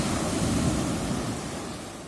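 Sea waves wash onto the shore in Turkey in December, a steady, rushing broadband surf with some wind noise on the microphone, fairly loud and even for the whole stretch, with no talking.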